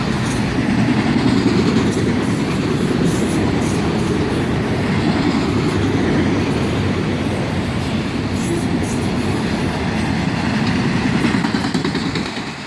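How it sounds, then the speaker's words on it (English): A CSX autorack freight train passes fast in Western Maryland, a loud, steady rush of wheels with rhythmic clickety-clack over the rails, close by and constant the whole time before easing slightly at the end. "This autorack train is definitely hightailing it out of here."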